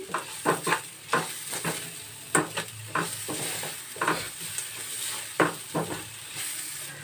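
Ingredients sautéed in a pan for a buttermilk tambuli, a soft continuous sizzle broken by repeated scraping stirs at an uneven rhythm.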